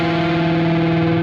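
A distorted electric guitar sustains one note over a riff's root note, producing a harsh, buzzing, steady dissonant tone throughout.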